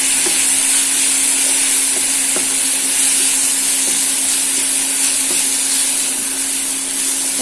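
Dried chilli powder and Kashmiri chilli powder sautéing with fried cauliflower masala in a pan: a loud, continuous close-up sizzle with a faint steady hum underneath, and no talking.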